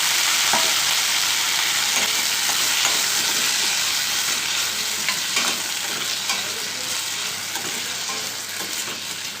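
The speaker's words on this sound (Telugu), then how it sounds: "అదేవిధంగా టమాటా ముక్కలను కూడా వేయించేసుకున్నాము" Tomato pieces fry in a pan for ridge gourd chutney, giving a loud, continuous sizzle close by that eases off slightly toward the end, with faint stirring clicks.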